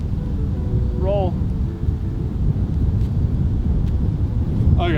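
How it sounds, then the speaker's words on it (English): Strong outdoor wind gusting across the microphone on a disc golf course, a steady loud rumble throughout with brief bird-like chirps near the start and end. "The wind's almost too much for it right now."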